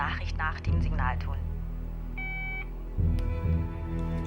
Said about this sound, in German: Bitte hinterlassen Sie eine Nachricht nach dem Signalton.